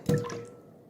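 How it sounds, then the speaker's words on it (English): A bar of Ivory soap is set into a bowl of water, giving a single short splashy plop followed by a faint fading trickle, close and alone. "we're going to take the soap and set it in this bowl of water"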